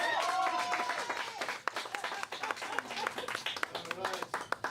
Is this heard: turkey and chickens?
no